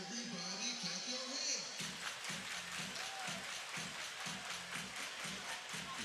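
Rhythmic crowd clapping in unison at an ice hockey arena during a game delay, regular beats under a steady arena din, with a commentator talking over it.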